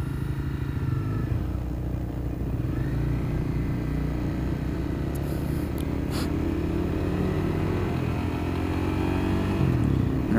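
A motorcycle pulls away slowly in first gear through stop-and-go traffic, its engine a steady low drone that rises slightly as it moves off, close and continuous with no talk.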